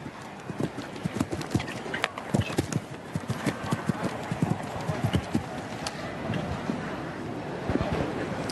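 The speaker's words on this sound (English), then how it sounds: "he's on a huge big horse" A big Selle Français gelding's hooves clip-clop in a steady, close rhythm around a show jumping arena at an international Nations' Cup event, with a faint voice now and then.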